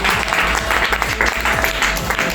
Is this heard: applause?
yes